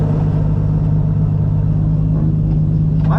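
A motorcycle engine drones steadily while riding, a loud low rumble with a constant tone running through the whole stretch.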